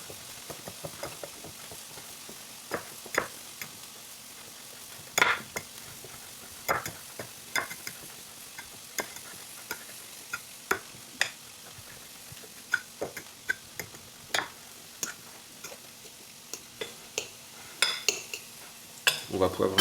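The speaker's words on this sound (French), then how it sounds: "on va venir les écraser à la fourchette" A fork mashes vegetarian burger patties in a pan or dish, making irregular sharp metallic taps and scrapes over a faint background, spaced unevenly and growing busier toward the end.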